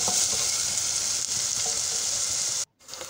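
Onions frying in about a spoonful of oil in a home kitchen pan. A steady, close hiss and crackle runs throughout, then drops to near silence for a moment before it resumes more quietly.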